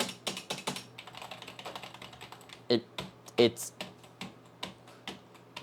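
Fingers tap on a non-mechanical vintage Mac keyboard in quick, uneven soft clicks with a few sharper keystrokes, heard close and under intermittent speech.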